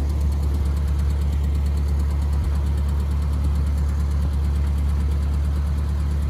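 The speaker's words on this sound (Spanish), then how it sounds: "para que veáis el coche en funcionamiento" A 1967 Citroën Tiburón classic car's engine idles steadily nearby, a loud low continuous rumble with a faint knocking pulse and no speech.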